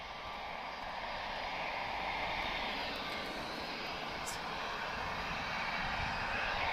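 An Aer Lingus airliner in older livery taxis at Lisbon Airport, its engines giving a steady, moderately distant drone and whine that holds evenly throughout, with no voices.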